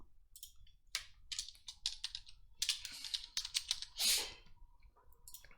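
Someone types a project name on a computer keyboard in quick uneven bursts of crisp, close keystrokes, with a louder press near the end, in a quiet room with no speech.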